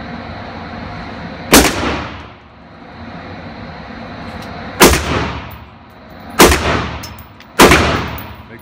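Four sharp gunshots ring out at an indoor shooting range, spaced a second or more apart, each loud and close with a brief reverberant tail over a steady background hum.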